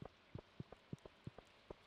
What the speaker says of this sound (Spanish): ¡Ah, está lloviendo!